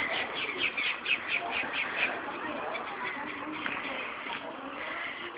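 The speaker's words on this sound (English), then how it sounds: "Are you tormenting the chickens, Jackie?" Busy chirps and clucking from a group of birds, uneven and fairly close, with faint human voices mixed in.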